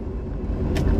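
A car cruises along a toll road in Makassar at about 60 to 80 km/h, giving a steady close road and engine rumble with brief wind hiss.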